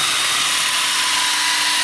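A power drill bores a 1/8-inch pilot hole in wood for a coarse wood screw while a solar oven frame is being built. It gives a loud, steady, hissing whir that runs unbroken for about two seconds.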